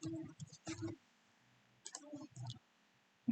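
Quick clusters of computer-keyboard keystrokes as a project name is typed: two short bursts of clicks, a pause, then another rapid flurry, close and crisp in a quiet room.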